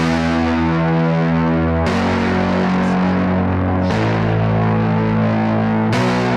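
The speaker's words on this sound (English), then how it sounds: "This is not supposed to be a passable guitar. This is just layering up underneath a real guitar player." A Nord Stage 4 keyboard plays a distorted guitar patch meant for layering under a real guitar. Thick, sustained chords sound with chorus and echo effects, shifting to new chords about every two seconds.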